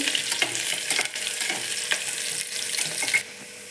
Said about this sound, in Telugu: ఉల్లిపాయ వేగైంది కదా